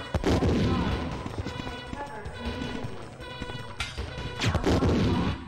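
Gunfire in the Resident Evil 1 video game: a burst of loud, clattering shots at the start and again near the end, with chaotic in-game impacts and noise in between.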